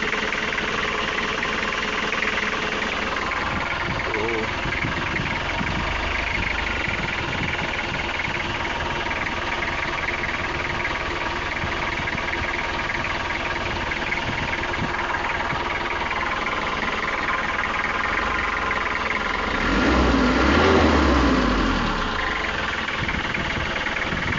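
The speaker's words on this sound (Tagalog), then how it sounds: "magandang tunog ng makina." A Nissan Urvan van's TD27 diesel engine runs steadily with a rough, knocking idle throughout, swelling slightly louder near the end.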